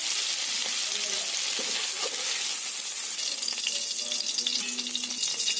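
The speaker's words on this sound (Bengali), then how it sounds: "পটলটা আমার ভাজা ভাজা হয়ে গেছে" Pointed gourd frying in hot oil in a home kitchen pan, with a steady, close, continuous sizzle and crackle running unbroken throughout, and a few faint clinks of utensils.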